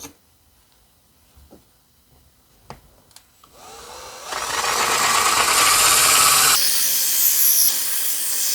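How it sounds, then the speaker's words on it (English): A drill starts up with a high, gritty grinding and holds steady for several seconds, boring a 1-inch hole through stained glass, preceded by a few small clicks and knocks. "Now I'll drill a 1-inch hole in the center of each of the pieces of glass."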